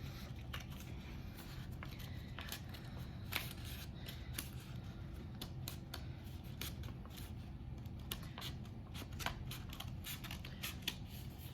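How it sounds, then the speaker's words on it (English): Scissors snip rapidly through several stacked sheets of paper to cut out lily pads, a steady run of crisp clicks over a low background hum, with no talking. "I'm not cutting out one at a time, I'm cutting them all out at the same time."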